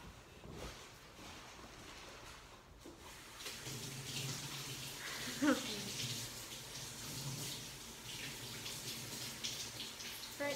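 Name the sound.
hands being washed under running tap water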